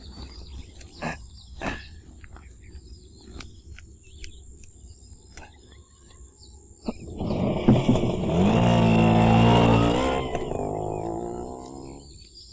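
An auto rickshaw drives away at night. Faint crickets and scattered ticks come first, then a loud, droning engine note rises and holds for a few seconds before fading.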